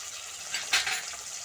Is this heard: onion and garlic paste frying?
yes